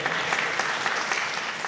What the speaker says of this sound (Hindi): आप भी ताली बजा सकते हैं